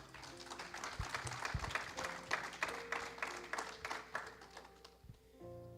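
Faint congregation applause during a church sermon, scattered claps rising and fading at low volume with a distant, roomy quality.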